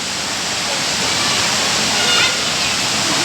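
Hinulugang Taktak waterfall in Antipolo, Rizal, sends up a steady, loud roar of falling water that fills the whole stretch without a break.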